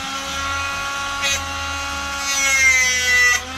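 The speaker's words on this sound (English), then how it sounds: "I wonder if I could do it with my handy drill here with a sander." A high-pitched electric drill fitted with a sander attachment whines steadily with a grinding, buzzing edge while sanding a folding knife handle, rising briefly in intensity, close and continuous throughout.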